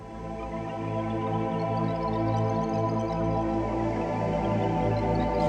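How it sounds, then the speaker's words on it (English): Korg M1 'Universe' pad program played on a Korg Nautilus, a lush sustained synth chord with slow shimmering movement, steady and full throughout with no talking. "It's a magical pad sound."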